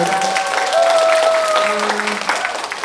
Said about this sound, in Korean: 박수 한 번 더 부탁드리겠습니다